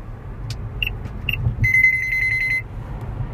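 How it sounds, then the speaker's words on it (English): A Mobileye collision avoidance system in a 2014 Tesla Model S sounds a warning: a couple of short tones, then a rapid run of high electronic beeps lasting about a second, over steady road rumble inside the car. "When you're hitting 20 miles an hour over the speed limit, it's warning you to tell you you're going too fast."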